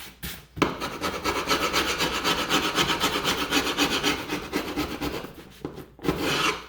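Felt residue is scraped off the back rail of an old Steinway piano in a run of close, rhythmic rasping strokes, wood scraping steadily with brief pauses near the start and end.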